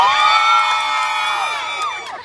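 Outdoor crowd of Filipino supporters outside the ICC shouting and whooping loudly during a tiebreaker audience contest, a dense burst of cheering voices that fades slightly toward the end.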